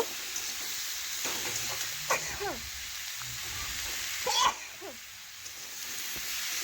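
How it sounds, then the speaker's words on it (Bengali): Pumpkin and potato sizzle steadily while frying in a pan, with soft scraping as they are stirred, under a voice speaking intermittently. "মিশিয়ে নিয়ে আমি দুই থেকে তিন মিনিট একটু ভেজে নেব"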